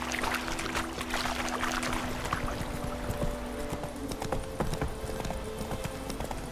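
Roach the horse's hooves clip-clop steadily on the ground in The Witcher 3, a close, even trotting rhythm with faint ambient tones behind it.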